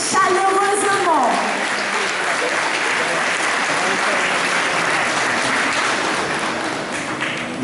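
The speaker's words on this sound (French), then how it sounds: "Applaudissez chaleureusement." A church congregation applauds warmly, steady dense clapping throughout, with a brief tonal voice or music line near the start and talk mixed underneath.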